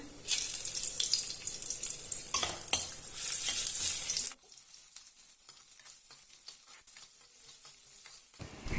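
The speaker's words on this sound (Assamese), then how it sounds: "এক চামুচ পাঁচফোৰণ শুকান জলকীয়া আৰু পিয়াজখিনি ভাজি লৈছো" Five-spice, dried chili and onions frying in hot oil in a kadai, a bright, loud sizzle with spoon scraping that drops suddenly midway to quieter crackling and stirring clatter.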